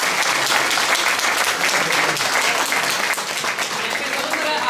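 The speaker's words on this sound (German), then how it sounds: "Poseban aplauz još jedanput" Sustained applause at a family reunion gathering, a continuous, loud crowd of many hands clapping evenly throughout with no pauses.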